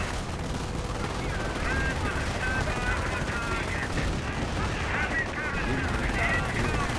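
Continuous gunfire and machine-gun bursts in a Company of Heroes 1 battle, loud and dense, with explosions rumbling beneath the steady rattle.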